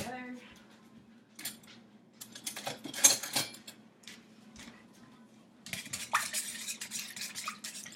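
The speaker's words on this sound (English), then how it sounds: "Okay, so now we will whisk that together." Ingredients are whisked together in a bowl in short, irregular bursts of scraping and clinking close to the microphone, with quiet stretches and a low hum in between.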